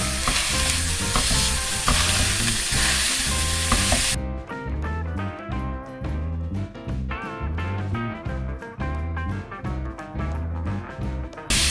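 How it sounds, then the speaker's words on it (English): Beef mince and onion browning in a frying pan, a steady close sizzle with frequent scraping and stirring strokes throughout, loud and clear with no talk. "I'm browning 500 grams of beef mince with the onion before I'm going to add my spices"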